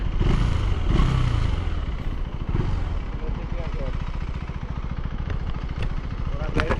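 A KTM 390 motorcycle engine idles with a steady, rapid thumping putter that never dies out, close by, while someone talks over it.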